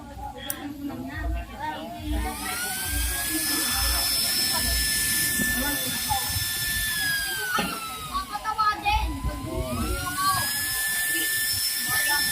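A used-oil stove burner runs on test with a steady, loud roar and a high whine that climbs, holds, dips and climbs again, while voices talk underneath.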